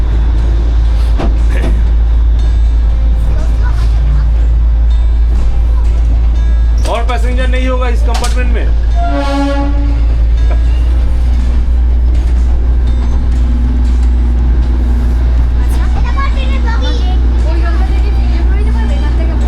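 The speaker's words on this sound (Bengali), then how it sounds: "চলছে বাবা, টয় ট্রেনটা চলছে।" Darjeeling toy train rolling along, a steady low rumble with rattling carriage noise and a few brief squeals, while people nearby talk over it.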